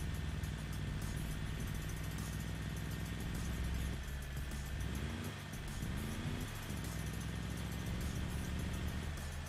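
Car engine idling steadily in the SCUM survival video game, a continuous low drone with a brief pitch shift midway as if revved or shifted, no talking.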